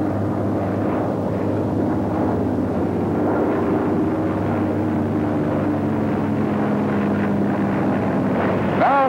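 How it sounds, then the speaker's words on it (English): A Grumman F6F Hellcat fighter plane on its takeoff run, a steady loud droning engine roar that holds throughout with a faint narrator voice underneath. "The F6F has very little tendency to swerve and will fly yourself off at a speed of"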